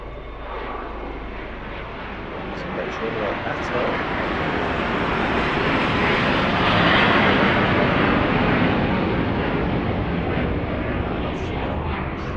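A jet airliner departs Lisbon Airport bound for Blackpool, a broad, loud roar of engines that swells over several seconds and stays heavy and sustained, with a few faint clicks on top.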